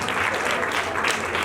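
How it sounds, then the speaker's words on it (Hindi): Audience applause at a Hindi sermon on family life, a dense steady wash of clapping that holds at even loudness from start to end with no voices over it. "जोरदार ताली बजा देंगे"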